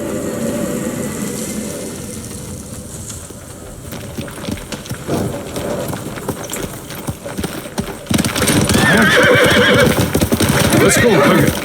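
Horse neighing and clip-clopping hooves from Ghost of Tsushima, with someone talking over quieter stretches before a loud whinny and hoofbeats near the end.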